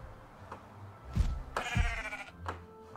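Sheep in the Minecraft game bleat several times in short, close calls, loud and clear over a low background.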